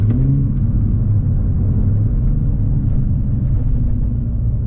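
A manual Nissan 370Z sports car on a drive, its engine giving a steady, close, low rumble as the driver downshifts, with a slight rise in revs and no talking.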